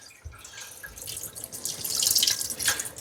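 A cold tap in a caravan runs steadily, water splashing into a sink with a bright, continuous hiss close by.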